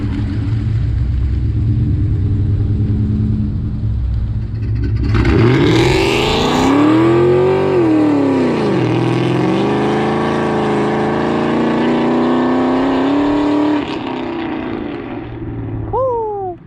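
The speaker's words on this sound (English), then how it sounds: "if you hear that exhaust leak, it's the headers" A Ford Mustang Mach 1 at a drag strip idles, then its engine revs hard several times with rising and falling pitch, the exhaust leaking at the headers adding a raspy edge, loud and close, settling back before a final blip.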